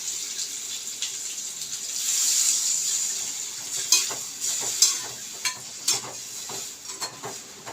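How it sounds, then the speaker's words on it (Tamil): Water pours into a pan of cooking raw mango, hissing and sizzling up loudly for a moment before easing into a gentle simmer, followed by several close scraping stirs against the pan. "தண்ணி கொஞ்சம் சேர்த்து கொஞ்சம் நல்லா வேகட்டும்."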